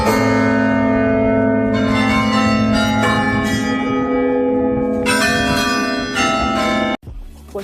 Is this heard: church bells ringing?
yes